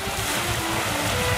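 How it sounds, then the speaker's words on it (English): Duyfken, a wooden tall ship replica of a 1600s vessel, motoring under engine power on water on a rainy day, giving a steady, continuous low rumble with broadband wash and wind noise throughout. "we've had to motor all the way back from pit water"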